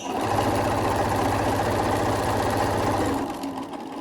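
A sewing machine stitches jersey fabric in a steady, continuous rapid whirr that runs for about three seconds before stopping, close and moderately loud.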